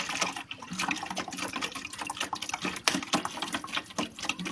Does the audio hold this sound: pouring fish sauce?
yes